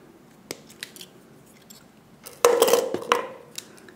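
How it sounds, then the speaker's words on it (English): Wire cutters snip jewelry wire on the back of a coiled wire-wrapped pendant set with two cabochons: a close, sharp snip with a brief metallic crunch and a second click after it, over quiet handling noises. "here on the back, I'm just gonna cut it."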